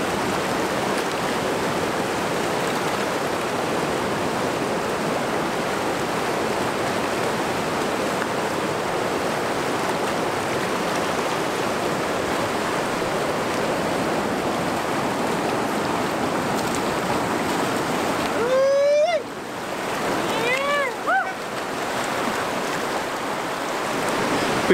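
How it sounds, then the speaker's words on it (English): River rapids on the Depaw River rush in a constant, loud broadband roar of churning water heard up close, with a brief interruption near the end where a few faint high chirps or squeaks break through. "most of that has been rapids on the Depaw River"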